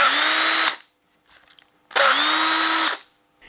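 A DeWalt hand drill runs during a repair test in two loud, steady motor bursts, each about a second long with a short pause between, and no talking.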